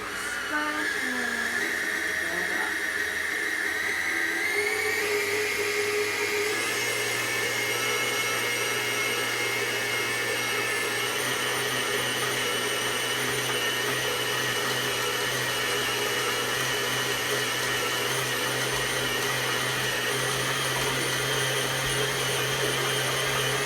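An electric mixer working bread dough, a loud continuous motor whine that starts gently and then settles into a steady higher drone, close and unbroken throughout.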